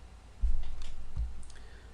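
A computer mouse clicks once or twice on a dialog's OK button, a soft close tap over quiet room tone.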